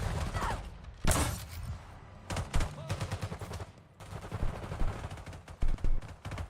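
Call of Duty Black Ops 6 gunfire crackles in sharp shots and short automatic bursts, spread irregularly at moderate loudness with brief pauses between volleys.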